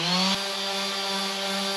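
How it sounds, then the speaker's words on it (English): Power sander running steadily on a wooden boat hull during restoration, a continuous loud motor hum with a rough abrasive hiss, alone without talk. "Anyway, sanding."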